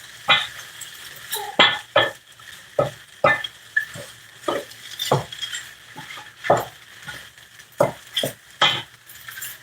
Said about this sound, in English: I just wanted to fry just a little longer. But not too long.